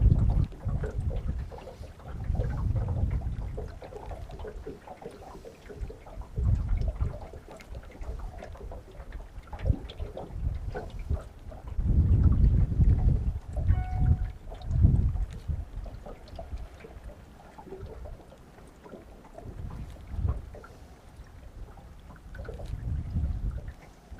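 Strong gusting wind buffets the microphone out on the water during a fishing trip, a deep rumbling roar that swells and fades in waves, with faint creaks and knocks beneath it.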